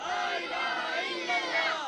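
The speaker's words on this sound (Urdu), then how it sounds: "اب میں چاہوں گا سر ہمارے جو ہے نا پاکستان کا نعرہ لگائیں" A crowd of students and staff at a school Independence Day celebration shouts a Pakistan slogan in unison, a sustained, loud massed chant of voices filling the space.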